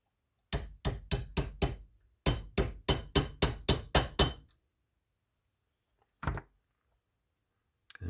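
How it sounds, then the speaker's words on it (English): A mallet taps a D.A.M. Quick 550 saltwater spinning reel part held in a vise, giving two quick bursts of about five and seven sharp, even knocks, then one lone tap after a pause. "put this back in the vise in the reverse direction here and just tap on it"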